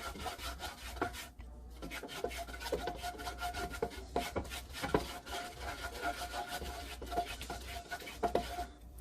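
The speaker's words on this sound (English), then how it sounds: "You got to keep stirring for at least 30 minutes." A gumbo roux is stirred in a pot, with a spoon scraping and rubbing the bottom in a quiet, continuous rhythm of strokes and no talking over it.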